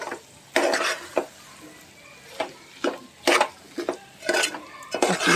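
Masala spices fry in oil in a pan for a mixed vegetable dish, with repeated scraping strokes of a spoon against the pan over a soft sizzle, close and fairly loud.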